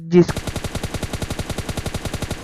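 Rapid automatic gunfire from a weapon in the mobile battle royale game PUBG Lite, a steady burst of about twenty evenly spaced shots rattling loudly right up close, following a brief blip at the start.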